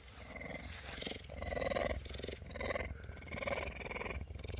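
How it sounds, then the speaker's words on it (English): A cat purrs steadily and faintly, a low rumbling vibration rising and falling in gentle swells with no voices. "I'll take purring."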